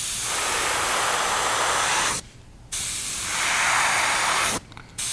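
An airbrush sprays a light yellow coat onto the top half of a fishing bait, two long close hissing bursts separated by brief pauses.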